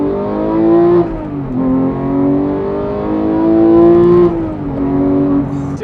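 A 2018 Porsche 911 GT3 with an aftermarket SOUL exhaust revs repeatedly and loudly, rising and falling in pitch with smooth harmonic roar, close up and alone.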